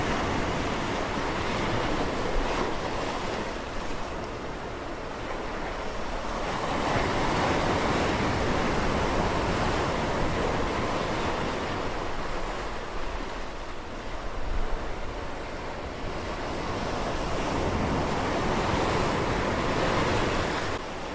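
Ocean waves wash steadily onto a beach in a continuous, broad roar that swells and eases, with some wind buffeting the microphone and no voices.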